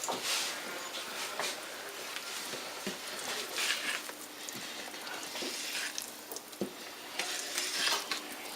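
Chocolate cake batter being mixed in a bowl, a steady scraping and stirring with soft clinks of utensil against the bowl, continuous and close throughout.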